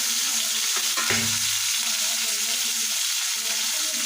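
Chopped onion and tomato sizzle and crackle steadily in hot oil, a close, continuous frying hiss with a brief clatter of stirring near the start.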